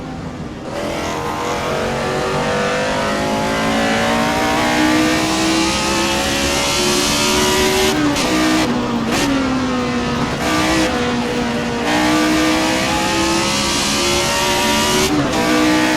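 A McLaren M23 race car in Assetto Corsa, its engine wound up loud and close, pitch climbing and dropping through repeated gear shifts with brief throttle lifts, no voices.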